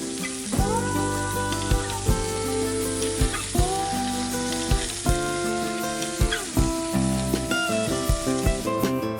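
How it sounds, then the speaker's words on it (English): Steak roulade sears in a cast iron pan at an outdoor cooking setup, a steady close sizzle running throughout beneath louder plucked instrumental music with regular note attacks. "this searing process is only going to take a minute"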